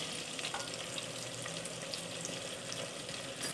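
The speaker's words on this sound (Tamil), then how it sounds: "அது கூடவே நறுக்கி வச்ச வெங்காயத்தை சேர்த்துக்கலாம்." Chopped onions sautéing in a pan for a dry fish curry, giving a steady, close sizzle and crackle of frying with faint stirring throughout, no voices.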